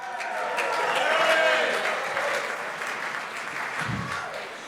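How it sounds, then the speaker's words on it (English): A warm round of applause from an awards-event crowd swells and then tapers, a dense wash of many hands clapping at once with a brief low thump near the end. "just give yourself a round of applause for getting out of the house"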